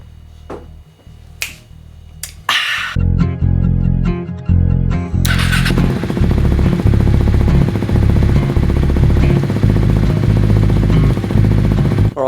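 A motorcycle fitted with a Healtech quickshifter, with a few sharp clicks and clatters before the engine catches, then a loud, steady, close idle that runs on alone without talk.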